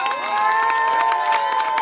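A slam-night audience in Vence bursts into loud, sustained cheering and applause, a dense wash of whoops and shouts over steady clapping that stays close and full throughout.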